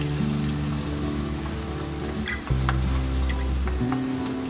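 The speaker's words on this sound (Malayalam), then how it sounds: "ചിക്കൻ എല്ലാം നമ്മൾ നന്നായിട്ട് ഫ്രൈ ചെയ്ത് ഒരു പാത്രത്തിലേക്ക് മാറ്റിയിട്ടുണ്ട്." Chicken deep-frying in hot oil in a pan for Kerala-style dragon chicken, a steady close sizzle with a brief stir or scrape midway.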